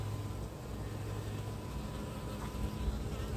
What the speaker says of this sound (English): take a look at these bees here. I mean, it didn't take them long at all to get on this pollen patty.